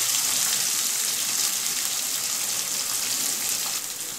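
Onions sauté in a pan for a ridge gourd chutney, giving a loud, continuous close-up sizzle that stays even throughout, no voices.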